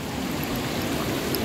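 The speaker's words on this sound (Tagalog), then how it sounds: "meron pa dito tubig. Yan, galing talaga dito sa loob ng bato na to." Clean water trickles and runs steadily out from inside a rock at an outdoor site, a close, continuous babbling wash with no speech.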